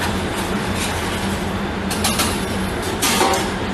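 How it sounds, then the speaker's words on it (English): A FlexiChef cooking unit's lid closing and locking on its own: a continuous mechanical whir, then two sharper clunks near the end as it latches. "The lid is closing automatically, it's locking automatically"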